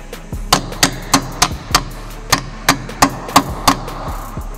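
Hammering a wheel weight onto a tire rim during tire mounting and balancing: a run of about a dozen sharp metallic taps, close and fairly regular, with brief pauses between strikes and no talk.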